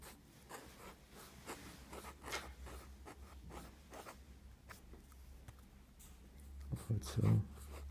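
A fountain pen with a wide 1.8 mm calligraphy nib scratches across paper in soft, close, repeated strokes, faint overall, with a slightly louder knock near the end.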